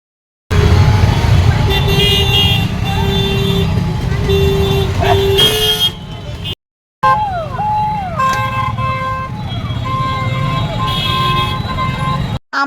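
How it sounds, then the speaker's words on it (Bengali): Road traffic stuck in a heavy jam at a railway gate in Bengal, with engines rumbling close by and repeated car horns honking, plus a siren-like wailing tone in the second half. "রেলগেটে আজকে প্রচণ্ড জ্যাম"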